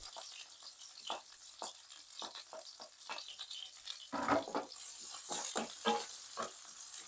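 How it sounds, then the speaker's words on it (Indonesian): Shallots and garlic fry in hot oil in a home kitchen, a steady hiss of sizzling broken by stirring scrapes and splashy bursts, close and moderately loud. "Minyaknya udah panas, kita masukkan bawang merah dan bawang putih"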